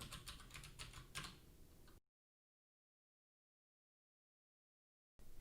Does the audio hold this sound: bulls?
no